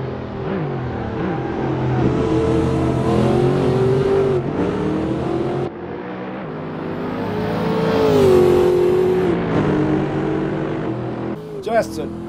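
A car engine in the Assetto Corsa racing game roars steadily while power sliding through a corner, revving up and down for the whole stretch, loud and close, with someone talking over it.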